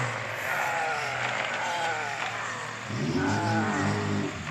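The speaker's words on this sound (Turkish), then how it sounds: "Ay oho hep araba sesi geliyor ya." A synthetic car engine in the game Earn to Die whines and rises in pitch, shifting through gears at speed, moderately loud with faint road noise.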